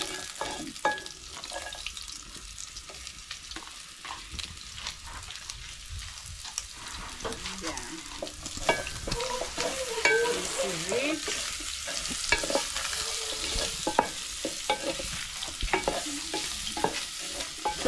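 Onions fry in a pan in a village kitchen, crackling and sizzling steadily with occasional stirring scrapes, close and fairly quiet with no talk.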